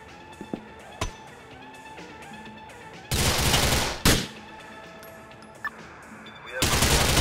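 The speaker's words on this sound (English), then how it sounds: "We have reported shots fired at the Majestic Hotel on Middle Park." Gunfire in the video game GTA IV: a few sharp single shots early on, then two sustained loud bursts of rapid fire with scattered pops between, close and dense.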